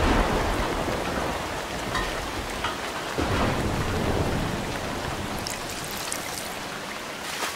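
Brazilian rainforest ambience with a thunderstorm: steady, loud rain pours throughout while deep thunder rumbles roll underneath, with no voices.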